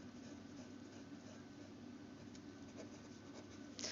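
Pen or marker scratching steadily across paper or a board while noting a copper Cu2+ d9 electron configuration, a soft continuous scraping at close range with a faint louder stroke near the end and no talking.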